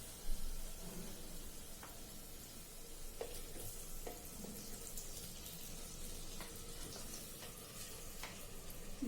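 Tomatoes tossed into frying onions for a tomato-onion curry, a faint steady sizzle with scattered light clicks and scrapes of stirring, heard from a little distance.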